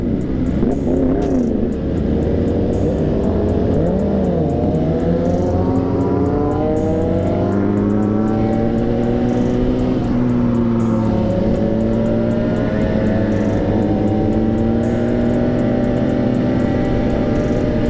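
A high-revving Yamaha R1 motorcycle engine wails loudly and continuously, its pitch sweeping up and down through repeated throttle blips and gear changes.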